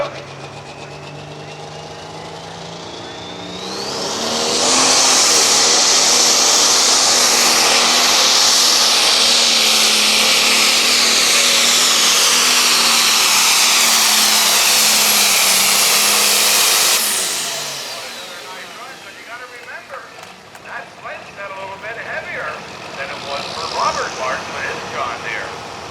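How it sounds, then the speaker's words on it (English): A competition tractor engine in a truck and tractor pull climbs from a low idle into a loud, sustained high-RPM scream under load for about twelve seconds, then cuts back as crowd noise and talk take over. "slowly bring up the RPMs"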